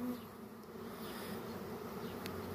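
A swarm of honeybees near a tree gives off a continuous, faint, even buzz with no break, and no voices are heard over it.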